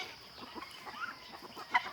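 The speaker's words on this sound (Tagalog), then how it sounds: "manok na panabong." A fighting rooster clucks softly, with a few faint, scattered clucks over low background hiss and one slightly sharper call near the end.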